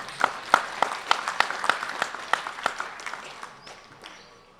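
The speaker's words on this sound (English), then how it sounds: "Applause for the runners-up for the women's strip" Scattered crowd applause at a lawn bowls open for the women's triples runners-up, with a few sharp, distinct claps standing out before the sound fades out toward the end.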